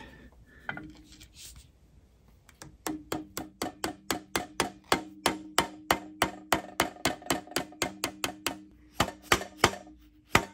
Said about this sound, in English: Let's see if we can tap in this little piece of key stock.